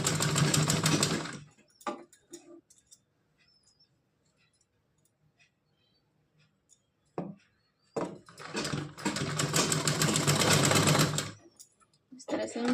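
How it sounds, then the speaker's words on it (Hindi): An electric sewing machine stitches a straight seam on a small doll's frock, running in two steady bursts of a few seconds each, loud and close, separated by a quiet pause with faint handling sounds. "अब हमको यहाँ पे सीधी सी सिलाई लगानी है।"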